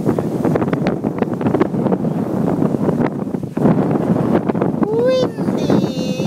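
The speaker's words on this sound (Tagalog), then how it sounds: "Windy. It's so windy." Strong wind buffets the microphone during a gondola ride at Blue Mountain, a loud continuous rushing roar with gusts, while people talk over it and a brief high squeal is heard near the end.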